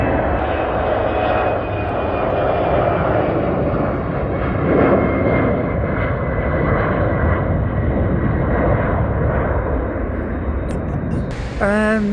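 Aircraft roar steadily from an open-air observation deck at Zurich Airport, a loud continuous engine drone with a brief chirping sound near the end.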